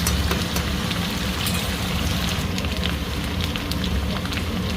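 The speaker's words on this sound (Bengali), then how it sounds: "আলুটা ভালো করে ভেজে নেব।" Potatoes frying in hot oil for a Bengali rohu fish curry, giving a steady dense crackling sizzle that stays loud and even throughout, with no talk.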